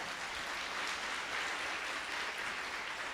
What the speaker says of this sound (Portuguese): Vamos dar uma salva de palmas para Ricardo.